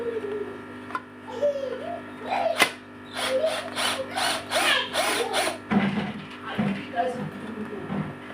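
A power tool buzzes in short repeated bursts, undoing bolts while stripping an XTC Big Daddy 12-inch speaker. Someone talks between and over the bursts.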